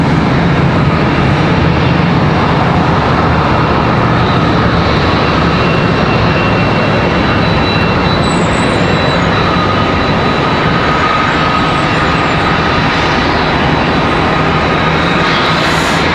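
An American Airlines jet departing Charlotte Douglas International Airport for Grand Rapids, Michigan, produces a loud, sustained engine roar, broad and continuous with faint whistling tones above it, steady and nearby.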